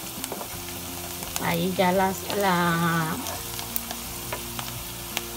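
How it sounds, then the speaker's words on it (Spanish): Onions fry and brown in a pan for a chicken cau cau, a steady close sizzle with a louder burst of stirring in the middle, while a person speaks briefly. "la cebolla se empieza a dorar"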